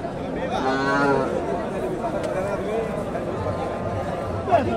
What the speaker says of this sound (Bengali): এখানে একটা ফ্রিজিয়ান ষাঁড় গরু দেখতেছি।